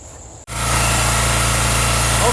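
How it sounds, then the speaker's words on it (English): A wood splitter's small gasoline engine roars into a loud, steady drone after a brief quieter moment, a buzzing high-revving hum with strong low rumble continuing close up and unbroken. "wood splitter all warmed up."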